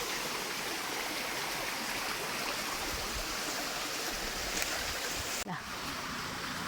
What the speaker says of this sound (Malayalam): ഇതാ തോട്